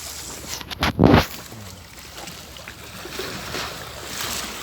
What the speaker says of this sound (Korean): 왜 갑자기 파도치지?